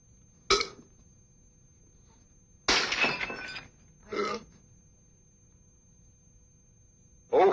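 Glass breaks in bursts in a 1971 comedy film scene: a sharp shatter, a longer crashing spill a couple of seconds later, then a smaller tinkle and a final crash, with a quiet background between.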